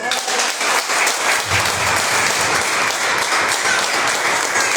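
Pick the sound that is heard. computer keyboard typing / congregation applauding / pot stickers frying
congregation applauding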